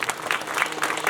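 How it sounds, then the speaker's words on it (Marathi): Audience clapping at a kirtan honouring Janardan Maharaj, a dense burst of many hands applauding steadily and close, with no talk over it. "जनार्दन महाराजांसाठी एकदा जोरदार टाळ्या वाजवा"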